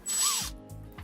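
A power driver whirs briefly to back out retention screws on an Xmaxx RC truck, a short rising whine followed by a couple of quieter mechanical clicks.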